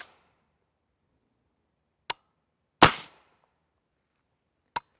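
Three sharp reports from a suppressed 300 Blackout rifle firing Winchester 200gr subsonic rounds, spaced a second or two apart, the middle shot loudest with a brief ringing decay, against otherwise silent surroundings.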